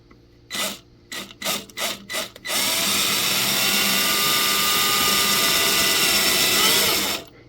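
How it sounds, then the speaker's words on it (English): A drill bores a strap-button hole into a guitar body: a few short trigger bursts come first, then one steady, close, loud drilling whine that runs for several seconds before cutting off. "Just going to go ahead and put it at the mark and start drilling"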